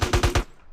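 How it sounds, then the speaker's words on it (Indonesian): A shotgun fires in GTA San Andreas, four loud, punchy blasts in quick even succession, then a short decaying tail into quiet. "Osh, shotgun itu"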